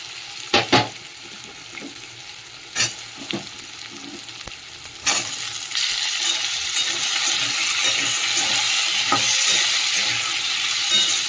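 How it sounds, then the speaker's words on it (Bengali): Diced potato and onion frying together in a pan, a continuous sizzle that grows louder and steadier after a few sharp stirring clinks and scrapes of a utensil at the start. "আলু পেঁয়াজ একসাথে ভাজা হয়ে যাবে।"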